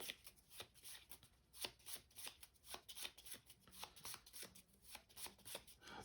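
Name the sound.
shuffling cards of the board game Shifting Stones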